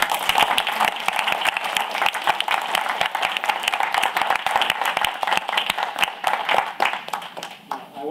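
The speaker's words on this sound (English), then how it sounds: "Let's give him a warm round of applause" An audience claps warmly after a lecture on AI, education and democracy, loud and close, with sharp individual claps over a steady crowd of hands and some voices mixed in.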